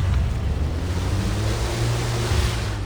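A boat in the video game Far Cry 3 motors steadily across water, a constant engine drone under a broad wash of splashing surf and spray.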